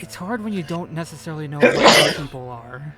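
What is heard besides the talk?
sneeze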